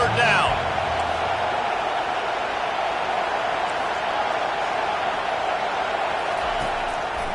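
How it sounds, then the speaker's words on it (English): A stadium crowd in the Madden 25 football video game roars behind the defense on third down, forming a loud, dense, continuous wall of noise throughout. "Decibels rising as the crowd gets behind this defense on 3rd down."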